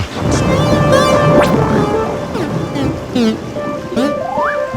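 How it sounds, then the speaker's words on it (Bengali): Steady rain pours down during a Bengali cartoon scene, a continuous dense hiss that runs the whole stretch, with faint rumbling and tonal musical sounds layered over it. "দাদুর কথা শুনে দেখছি বৃষ্টিটাও একটু ধরেছে গুলটে মামা।"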